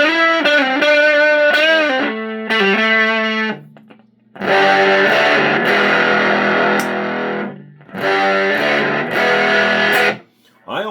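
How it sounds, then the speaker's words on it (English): Electric guitar played through an Indigo Labs 510-11 Valpro amp set to a gated fuzz, loud distorted chords and notes that cut off abruptly into silence between bursts. "this is more of a gated fuzz type of sound"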